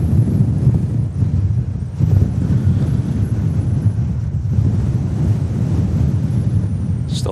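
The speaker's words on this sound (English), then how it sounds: "Still mega windy here at Manchester." Strong storm wind at Manchester Airport roars and buffets steadily against the microphone, a constant low rumble with gusts, loud and close throughout.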